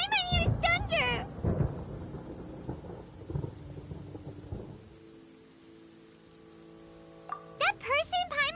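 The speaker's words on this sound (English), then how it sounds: "Paimon hears thunder!" Game thunder rumbles low and broad from the Genshin Impact world, rolling for several seconds beneath a voice that talks at the start and again near the end, then easing off into quieter ambience.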